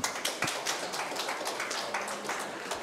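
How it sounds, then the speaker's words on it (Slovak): A church congregation applauds to welcome a visiting translator, a fairly faint, steady patter of clapping hands lasting a few seconds. "A môžeme ich teda ešte raz privítať takým potleskom"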